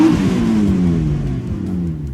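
A boat engine in the Roblox Brookhaven game revs loudly and steadily, its pitch drifting slightly downward over a couple of seconds, with no talking.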